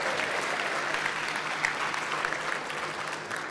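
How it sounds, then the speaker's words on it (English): An audience at a state party convention applauds in a steady, dense wash of clapping that holds at an even level, heard at a moderate distance in a large hall. "Give them all a big round of applause."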